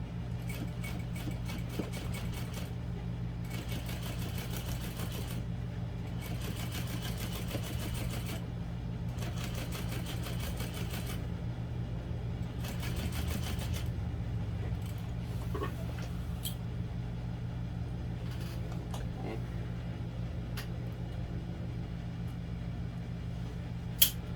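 A sewing machine top stitches the full length of a barrel bag's bottom panel, its low motor drone running steadily throughout with faint rattling bursts over it.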